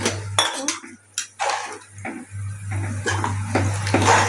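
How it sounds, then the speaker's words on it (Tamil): A spoon clanks and scrapes against a pot of vegetable biryani being stirred, with irregular close metallic clinks over a steady low hum. "நல்லா கிளறி விட்டுட்டு உப்புலாம் செக் பண்ணிக்கோங்க"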